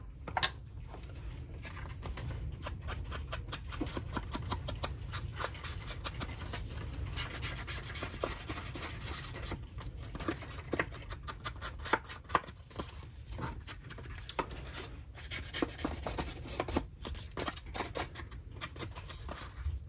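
Paper masterboard being rubbed to distress it, a continuous dry scratchy rasp with quick repeated strokes, close and steady throughout with no talking.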